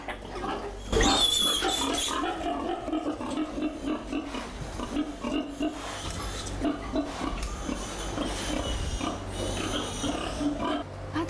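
Anqing Liubai pigs, a sow with her piglets, grunt and oink repeatedly nearby over several seconds, with squeals and rustling among the animals and occasional human voices in the background.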